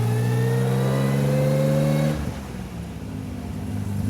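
An Aston Martin DB2/4 Mark III climbs through the revs under acceleration with a rising exhaust note, drops off on a gear change, then settles into a steady, lower drone, loud and close.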